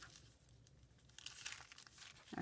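Scissors cutting through thin deli paper for a junk journal pocket, a very quiet, close crinkling and rustling that swells slightly toward the end.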